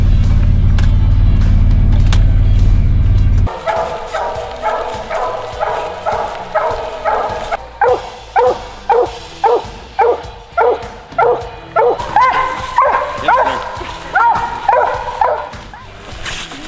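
Hunting hounds bark and yip in quick repeated bursts, loud and fairly close, after a few seconds of steady vehicle engine rumble, with the barking settling into a fast, even rhythm.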